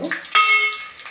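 Ginger garlic paste hits hot oil in a pan and erupts into a loud, bright sizzle that settles into steady frying, with a brief clink of a spoon just before.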